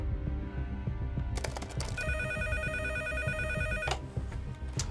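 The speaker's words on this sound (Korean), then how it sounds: "방송국으로 한 통의 전화가 걸려온다." A telephone rings at a television station in a dramatized Italian scene from 2008: a bright electronic ringtone trills in repeated bursts over a low background hum, fairly close and clear, with no one speaking.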